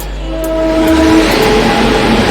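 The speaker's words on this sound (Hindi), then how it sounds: "फाइनली भाई इतनी देर वेट करने के बाद हमारी ट्रेन आ गई" A passenger train pulls into a station, its loud, rumbling approach filling the scene while a long, sustained horn blares clearly over the rolling wheels.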